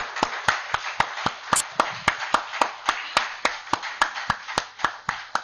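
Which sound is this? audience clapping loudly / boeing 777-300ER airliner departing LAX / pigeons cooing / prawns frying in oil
audience clapping loudly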